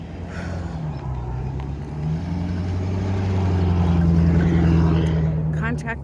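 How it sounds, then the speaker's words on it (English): War planes drone overhead as a continuous low engine rumble that slowly swells louder and then eases, heard outdoors on a quiet residential street. "I have the war planes above me"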